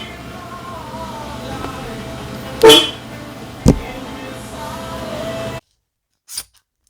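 Junkyard 1980s Mercedes car horns wired onto a SOHC turbo Honda Civic give two short, loud blasts over a steady background hum. They are followed by silence and a faint brief blip.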